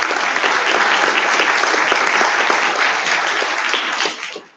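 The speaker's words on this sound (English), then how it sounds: "I think all this clapping counts as a workout." Dense, steady applause from a large audience at a conference plenary session, loud and continuous with no voices, then tapering off sharply in the final half second.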